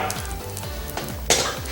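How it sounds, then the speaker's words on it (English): Asafoetida sizzling in hot oil while cooking bitter melon, a steady close frying hiss with a brief louder crackling burst partway through, no voices. "putting just a pinch of asafoetida, and you can see the sizzling sound"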